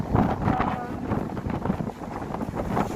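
Strong, cold wind at about 3°C gusting straight into the microphone, producing a loud, buffeting low roar that rises and falls throughout.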